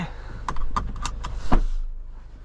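Inside a 2024 Kia K5 GT, a quick series of clicks and rattles ends in a single solid door thump, followed by a muffled cabin hush.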